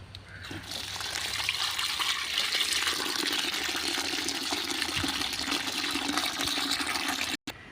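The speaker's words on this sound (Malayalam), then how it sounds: "ഇനി ഇതിലേക്ക് മുങ്ങാൻ പാകത്തിനുള്ള വെള്ളം ഒഴിച്ചു കൊടുക്കണം." Water poured steadily into a container holding a pressed-down plant growing mix, a continuous splashing pour lasting several seconds with a brief break near the end.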